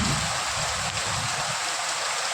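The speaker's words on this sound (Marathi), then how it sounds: "भरपूर असा हा पाऊस झालेला आहे" Dense, roaring downpour of heavy rain, a constant loud wash of sound with no break.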